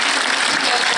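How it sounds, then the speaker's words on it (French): Cinema audience applause at a film premiere, a dense wash of clapping filling the room during a short burst. "il faut aussi applaudir ces gens de l'ombre qui sont dans le fond"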